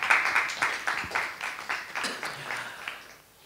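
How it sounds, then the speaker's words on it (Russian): Scattered applause from an audience at a book talk: a small group claps in uneven bursts of distinct, crisp hand claps, close and clear, gradually thinning and fading out. "это, по-моему, отдельные аплодисменты"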